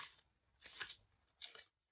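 Crinkly rustling of plastic packaging as a 3D-printed model of a house is carefully unwrapped, three short bursts of crackling separated by brief pauses, close and fairly quiet with no talking.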